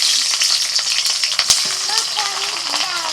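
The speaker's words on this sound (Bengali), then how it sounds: "এখন ক্যাপসিকামটা হালকা করে ভেজে নেব।" Capsicum lightly frying in a pan with oil, a loud, close, steady sizzle with crackles and stirring scrapes, a sharp clack of utensil against pan midway and a voice heard faintly in the background.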